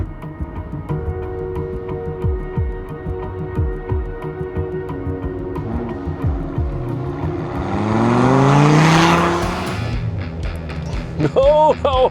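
A Dodge Viper muscle car and a new VW Golf R hot hatch launch from a drag race start, engines rising in pitch as they rev and accelerate, loud and close, with talk over the run-up.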